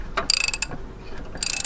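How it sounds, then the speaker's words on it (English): A 1/2 inch ratchet wrench with an adapter and socket is worked during engine reassembly on a Hummer H3, with two quick bursts of close, rapid pawl clicking separated by a brief pause and some light handling noise. "The 1/2 inch wrench with the adapter and the socket and everything"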